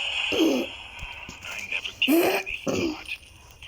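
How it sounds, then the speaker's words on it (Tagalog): Throat clearing and short coughs from a man playing Mobile Legends, three rough bursts near the microphone with quiet pauses between them and a steady game background. "pagpasensyaan nyo lang, may ubo ko"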